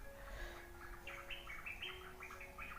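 Several birds chirp and tweet in short bursts outdoors at a village garden in the morning, with a steady faint hum underneath and no voices.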